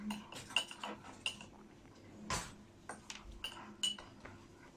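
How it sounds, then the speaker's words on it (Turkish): A teaspoon is handled while making lemonade, giving a series of light, close metallic clinks and taps against cutlery and dishes, irregular and fairly quiet, with no talking. "Önce çay kaşığı alıyoruz"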